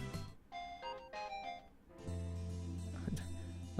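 A mobile phone ringtone from the Steins;Gate visual novel plays a short melodic electronic tune, a few bright tones followed by a sustained buzzing chime, fairly quiet and alone.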